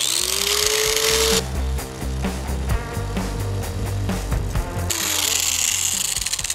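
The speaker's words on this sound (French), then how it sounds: "quand vous utilisez une disqueuse, il faut mettre des gants et des lunettes." An angle grinder cutting metal during engine removal on a Dodge Aspen: the motor whines up to speed, then a loud, harsh grinding roar with a gritty, rasping texture carries on continuously, close and dominant.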